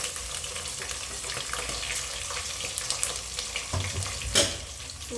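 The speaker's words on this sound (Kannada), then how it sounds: "ಸೊ ಬೆಳ್ಳುಳ್ಳಿ ಮತ್ತು ಈರುಳ್ಳಿ ಹಾಕಿ ಚೆನ್ನಾಗಿ ಫ್ರೈ ಮಾಡ್ಕೊಬೇಕು." Garlic and onion fry in a pan with a steady, broad hiss. A few clinks and a stirring scrape come through near the end.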